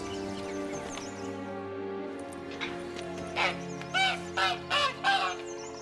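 A caged hen from The Witcher 3 clucks in a run of five short, loud, honking calls over a steady tonal game background drone, close and clear with no talking.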